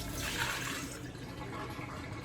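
Boiled water draining out of a cooking pot, a steady rushing pour that fades after about a second into a softer trickle, close and alone.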